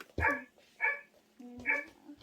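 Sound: dog barking from a children's Korean-alphabet bus sound book

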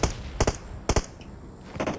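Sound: gunfire in video game Fortnite or PUBG

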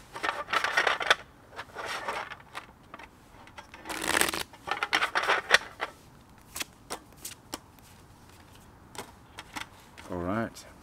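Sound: shuffling tarot cards

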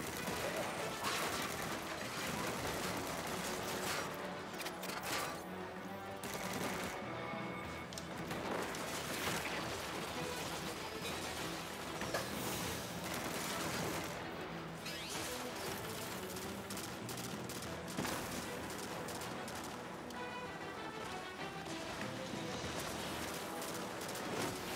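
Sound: gunfire and turret shooting in the video game Destiny 2

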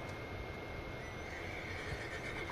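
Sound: horse neighing in a video game

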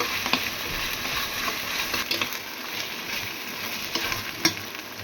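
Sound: ginger, garlic and cumin frying and being stirred

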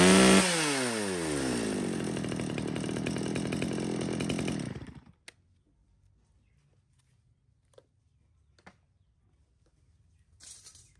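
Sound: chainsaw cutting wood

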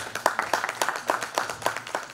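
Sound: applause

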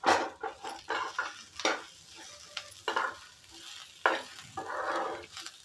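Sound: pigeon pea mixture roasting in oil in a pan

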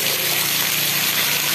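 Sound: heavy rain pouring

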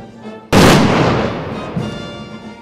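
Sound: ceremonial gun salute fired from small arms

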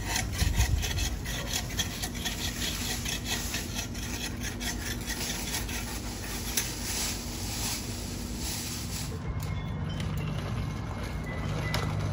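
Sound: hand saw cutting tree branches

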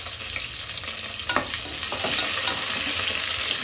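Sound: vegetables and green chillies frying in a pan

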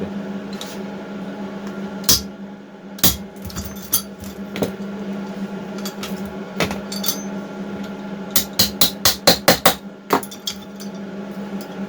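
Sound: hammer striking 4-stroke engine valve parts

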